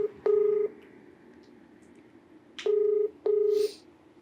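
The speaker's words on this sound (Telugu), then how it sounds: "కాల్ చేస్తున్నాను" A phone number is keyed in as a series of DTMF dialing tones: one beep near the start, then two more close together about two seconds later, each clear and steady over a faint background hiss, with no talking.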